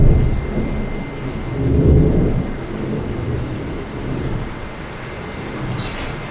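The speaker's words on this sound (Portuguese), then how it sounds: "trovão." Deep rolling thunder rumbles and swells beneath steady heavy rain, the low roar peaking midway then easing back into the constant downpour.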